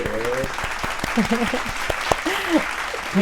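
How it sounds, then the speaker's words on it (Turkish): An audience claps steadily through the whole stretch while voices talk over the applause. "kocaman bir alkış istiyoruz"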